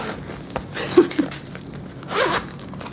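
Zipper on a canvas and faux leather organizer being pulled open, a couple of quick rasping zips close to the microphone over a soft, steady background hiss.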